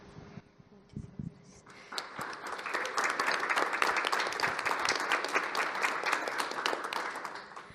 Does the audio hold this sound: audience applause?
yes